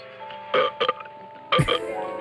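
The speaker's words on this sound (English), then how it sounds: "The burp." A short burp-like croak followed by a second, louder guttural burst, with quiet clicks and a faint hum between them.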